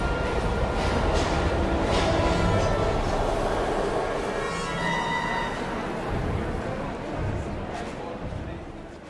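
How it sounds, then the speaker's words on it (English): A train in the video game Heavy Rain gives a steady, loud rumble of rolling rail cars and clattering carriages that runs the whole time, with voices talking over it. "We gotta get on that train, Ethan."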